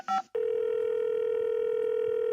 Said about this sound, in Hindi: कॉलर को फोन लगाते हैं और पूछते हैं क्या है उनके मन में सवाल।